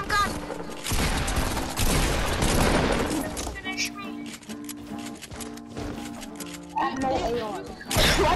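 Rapid video-game gunfire in sustained bursts, loud and close, mixed with game music and effects while a player talks over it.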